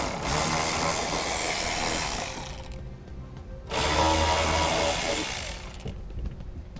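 A power tool removing nuts in the trunk of a 2013 BMW 5 Series, two loud close whirring bursts of a few seconds each separated by a short pause, no talk.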